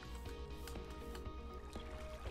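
In Minecraft on a superflat world, a water bucket is emptied, giving a soft liquid splash and trickling flow with faint clicks of game sounds, quiet and steady throughout.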